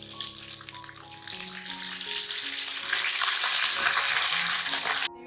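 Cumin, black pepper, cinnamon, cardamom, green chili and garlic-ginger paste sizzle steadily in hot oil, a close, continuous frying hiss with a few stirring scrapes.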